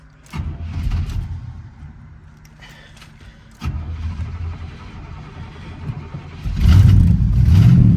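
A car pulled from an auction lot fires up, its engine catching and settling into a mid-pitched idle before a couple of throttle blips swell into a loud, rumbling exhaust rev near the end.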